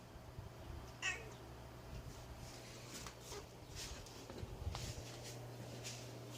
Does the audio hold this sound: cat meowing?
yes